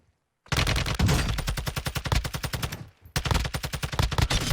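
Rapid automatic gunfire from a Warzone 2 match in Call of Duty, loud and close, two long bursts of evenly spaced shots separated by a brief pause, with no talking.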